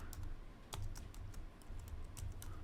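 Keys clack on a computer keyboard as a search is typed, a quick, quiet run of separate taps close by.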